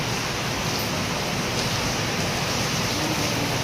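Steady, soft hiss of light rain falling continuously, with no voices or other distinct sounds.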